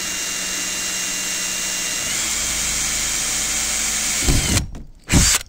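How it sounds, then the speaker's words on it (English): A power drill whines steadily for several seconds, then stops and gives two short bursts; no talking. "You got a sharp drill bit."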